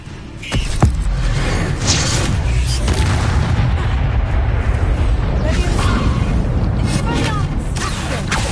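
An Incendio fire spell cast in the Hogwarts video game bursts with a sudden whoosh and boom, followed by a sustained loud roaring, crackling rumble of flames with further swells and crackles.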